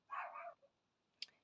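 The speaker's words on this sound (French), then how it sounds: "mes chiennes aboient après, voilà, à travers la vitre" Dogs bark from behind a window at an escaped hen: one drawn-out, fairly faint bark followed by a brief sharp yip, muffled and indoors-sounding.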